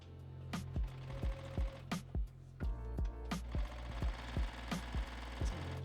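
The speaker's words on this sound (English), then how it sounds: "sew this really quick here" A sewing machine stitching a tea towel dress, making a run of quick mechanical thumps with short pauses, close up and clear with no voices.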